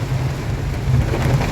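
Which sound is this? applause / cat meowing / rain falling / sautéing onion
rain falling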